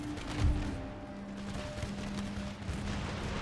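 Musket volleys crackle in a battle in Empire Total War, scattered distant gunfire over a steady game hum and background din, with no one talking.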